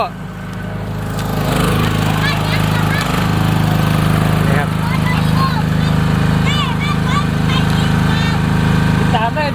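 A 9.37 kW electric generator engine runs steadily at close range with a loud, continuous mechanical drone, while people talk over it throughout.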